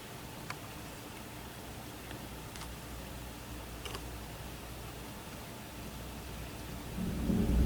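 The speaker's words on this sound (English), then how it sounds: "It's already kind of downpouring." Outer band of a tropical storm bringing a heavy downpour, a steady faint wash of rain with a few sharp ticks and a swelling rumble near the end, no voices.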